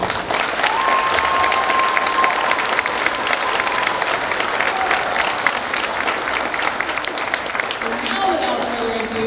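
An audience at a school Christmas concert breaks into sustained, loud applause that lasts throughout, with dense clapping close by and some crowd murmur, plus a brief high tone near the end.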